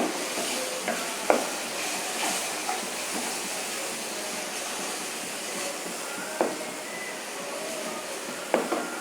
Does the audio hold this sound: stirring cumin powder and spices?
yes